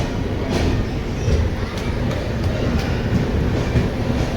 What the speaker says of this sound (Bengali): খড়গপুর স্টেশন থেকে এখন ছেড়ে দিল ট্রেন।